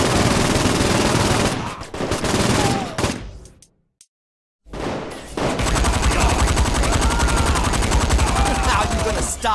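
Loud, dense automatic gunfire in the Saints Row IV video game, sustained bursts that cut out into a brief silence and then resume as continuous rapid shooting close up.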